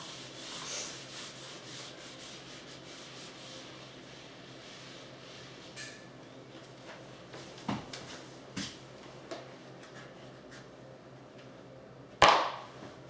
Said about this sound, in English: Would help if I would erase with the eraser instead of with the handle part.